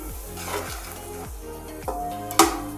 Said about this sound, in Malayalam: ഒന്ന് വഴറ്റിയെടുക്കുക.